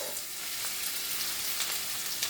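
Onions frying in hot oil for chicken pathia, making a brief, steady, crackling sizzle heard up close without talk.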